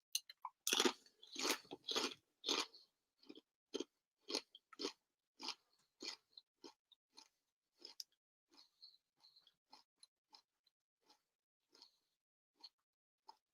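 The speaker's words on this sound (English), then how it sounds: "Got some cheese and onion crisps." Close, crisp crunching as cheese and onion crisps are bitten and chewed, loud crunches at first fading to softer, irregular chews, with no other sound.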